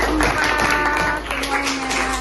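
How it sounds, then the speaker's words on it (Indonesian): A classroom group of students claps for group 4, a dense, steady patter of applause lasting throughout, with faint voices mixed in. "Kasih tepuk tangan buat kelompok 4"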